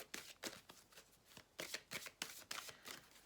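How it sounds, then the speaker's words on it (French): Tarot cards being shuffled by hand, a run of quick crisp riffling bursts with short pauses between them, close and fairly quiet with no talking. "Je mélange les cartes."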